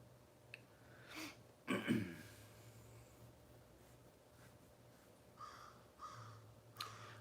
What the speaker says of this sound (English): you'll probably hear a bunch of birds and crows in the background